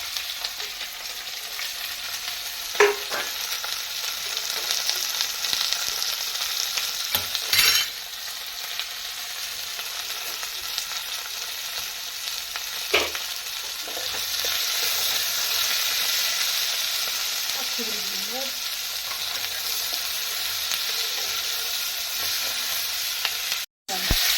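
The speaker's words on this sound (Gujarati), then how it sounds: "જીરો નાખી દઈએ. ગરમ મસાલો ડુંગળી શેકી દેવાની." Cumin, garam masala and onion sizzle steadily in a pan for chana masala, a continuous close frying hiss broken by occasional clinks and scrapes of stirring.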